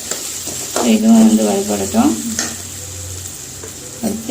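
Chopped chillies, tamarind and coconut fry in a pan for a pirandai chutney, a steady sizzle with stirring scrapes under a voice speaking nearby.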